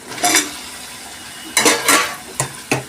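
Pumpkin pieces clatter into a frying pan, with several distinct knocks and scrapes of metal cookware and utensils in quick separate bursts, loud and close, with no voices.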